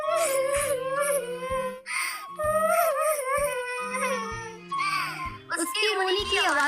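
A cartoon sparrow in a Hindi children's story sobs and wails in a high, wavering voice, with repeated crying phrases broken by short gasps, close and continuous.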